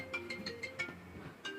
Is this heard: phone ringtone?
yes